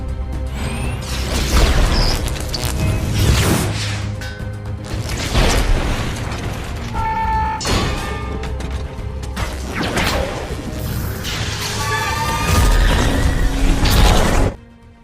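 Loud cinematic booms and crashes from an Iron Man film erupt repeatedly, with whooshes and debris-like bursts building to a final blast before cutting off.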